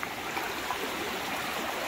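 Fast floodwater rushes through a swollen creek after Oklahoma flash floods, a steady close, continuous hiss and churn of moving water with no voices.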